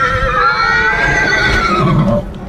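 A horse whinnies loudly and close at a horse show, a long descending neigh with strong harmonics lasting about two seconds before trailing off, with crowd and ground noise underneath.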